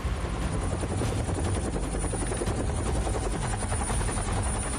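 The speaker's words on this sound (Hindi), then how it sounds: "एक ईरानी हेलीकॉप्टर अमेरिकी नौसेना की युद्धपोत यूएसएस एसेक्स के करीब से उड़ता दिखाई दे रहा था" An Iranian helicopter flies close to the US Navy warship USS Essex, its rotor thumping in a loud, dense, continuous chop with no talk over it.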